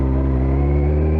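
Loud, steady engine note of a Kawasaki ZZR 1400 motorcycle held at high revs for a moment, heard close with strong harmonic tones and no talking.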